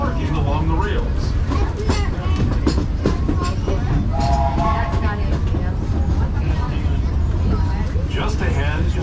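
Disneyland Railroad train rolling steadily along the track in daytime, a continuous loud rumble with clattering under a narrator's announcements throughout.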